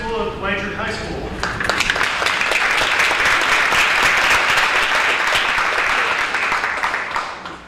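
Audience applause fills a town hall meeting at Blanchard, beginning after a brief voice and swelling into steady, dense clapping from a large crowd for several seconds before tapering off at the end.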